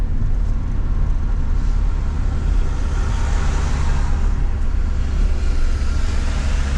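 A car with a shaking steering wheel drives along a road inside a residential complex, a steady loud rumble of engine and road noise throughout with no voices.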